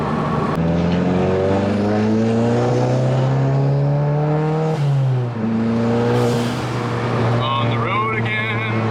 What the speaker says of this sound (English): Ripping my GTI on the road again.